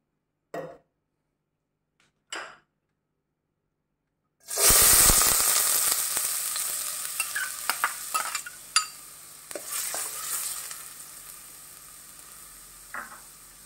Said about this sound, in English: We'll add oil in order to saute the onion.